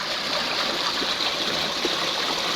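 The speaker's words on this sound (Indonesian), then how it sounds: "sungainya tidak besar, sungai kecil yang memang untuk difungsikan untuk pengairan sawah" A small irrigation stream beside rice fields in a village, running as a steady, even rush of water with a continuous trickling wash close by and no talk.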